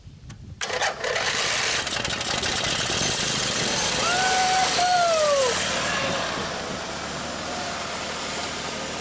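Model airplane engine starts abruptly and runs at a loud, steady, buzzy drone close by, with a brief rising and falling whine partway through before the tone settles.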